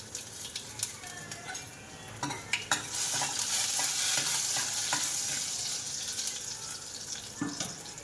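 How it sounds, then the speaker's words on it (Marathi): Garlic is added to hot oil already holding cumin and mustard seeds, and a loud burst of sizzling rises and holds steady, preceded by clicks and knocks of a spoon against the pan. "आता जो लसूण आहे तर तो टाकून घेते लसूण चांगला भाजू येतो"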